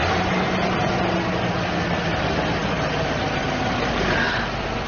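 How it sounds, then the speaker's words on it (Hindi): An old car's German engine, unused for years, runs steadily after starting, a constant low idling drone with no voices over it. "ये जर्मन इंजन का कमाल है भाई।"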